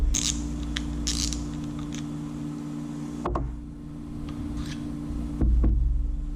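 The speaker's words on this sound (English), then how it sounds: "now what we're going to do is we're going to remove the spool" A Penn Spinfisher V spinning reel, with a corroded bail that won't close, has its spool taken off: close, small mechanical clicks, ticks and creaks, with a louder clack near the end and no talking.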